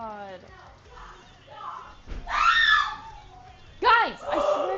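Someone screams indoors in a room, a couple of shrill wailing bursts mixed with other voices talking and shouting nearby, loud and close.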